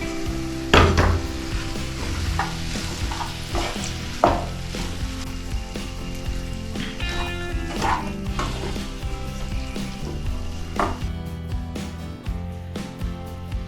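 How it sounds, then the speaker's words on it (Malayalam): Boiled potatoes being stirred into curry in a pan, with repeated close scraping and clinking strokes of a spoon over a continuous soft sizzle. "നമ്മൾ ആദ്യം വേവിച്ച് വെച്ച ഉരുളൻകിഴങ്ങ് ഇതിൻ്റെ അകത്തിട്ട് ശരിക്കും ഒന്ന് ഇളക്കി ഒന്ന് സെറ്റാക്കാം"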